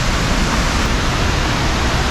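Waterfall on the Estonian coast rushes in a continuous, loud, even hiss of falling water, close by and steady, with no voices.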